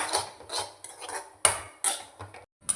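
A spoon scrapes and clinks against a pan while mixing egg curry with pepper powder, giving several close, sharp strokes in an uneven rhythm with short pauses between them and no voices.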